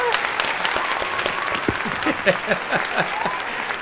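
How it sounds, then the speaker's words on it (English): Applause for a guest model on a live show, a steady round of clapping from a small audience with some distinct nearby claps and faint voices underneath. "Let's give her a round of applause."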